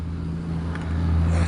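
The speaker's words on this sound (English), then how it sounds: "loud truck" A loud truck rumbles past nearby, a steady low engine drone swelling slightly toward the end, heard alone without talk.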